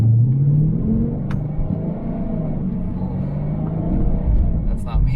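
A car engine revving up with the clutch held in, a rising low rumble just after a phase lock install, with a brief odd whirring as the revs climb and fall, loud and close inside the car.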